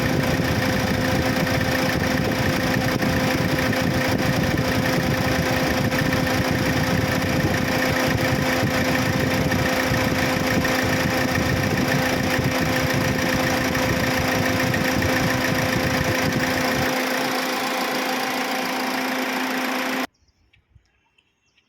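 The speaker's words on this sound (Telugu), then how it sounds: "ఇంజన్ చాలా బాగుంది, సైలెన్స్ ఉంది" A Toyota Etios car engine idles with a steady, even hum and light vibration, close and alone with no talk, running for about twenty seconds before cutting to silence.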